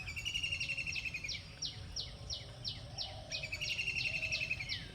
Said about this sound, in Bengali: দেখেন এই যে মিষ্টি পাখির ডাক এগুলো আসলে গ্রাম ছাড়া কখনোই সম্ভব না